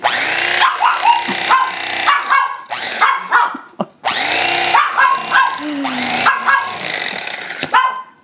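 A dog barks repeatedly and loudly, close by, in a kitchen while roast beef is being sliced, the barks coming in quick bursts with short gaps across the whole stretch.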